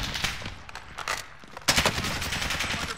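Rapid automatic gunfire from a Call of Duty: Modern Warfare multiplayer match, with bursts of close, loud shots stuttering in quick succession and a sharper, heavier volley breaking out partway through.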